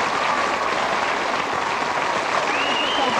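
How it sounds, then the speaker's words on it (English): An audience at a 2006 Blackpool magicians' club show applauds: dense, steady clapping from a full crowd that stays loud and even throughout. "Can you give these two gentlemen a wonderful round of"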